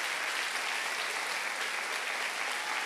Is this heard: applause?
yes